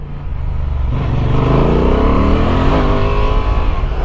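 A Honda Transalp 750 motorcycle climbs a winding uphill road on Tenerife with other riders, its engine droning loud and steady with rising revs under strong wind rush, no talk.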